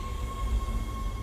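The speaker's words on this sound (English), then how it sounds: "Tram arriving" A tram rolls into a station in the video game Dead Space, giving a low steady rumble with a faint sustained tone above it, fairly loud and continuous throughout.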